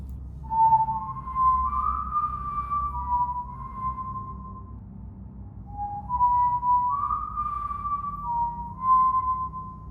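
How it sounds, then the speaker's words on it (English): A single person whistles a short, wavering melody twice over, soft and slightly distant, against a low steady background hum. "The whistle has the same tune every night."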